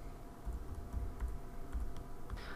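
Keys clatter on a computer keyboard while a custom drug name is entered into a pharmacy software medication box, soft irregular clicks in quick bursts with a faint hum underneath.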